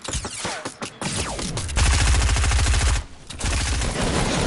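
Video game gunfire on PS4: rapid bursts of automatic shots, then a sustained fusillade of close, loud rounds, a brief pause and more firing.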